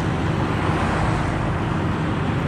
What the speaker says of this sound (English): that truck is loud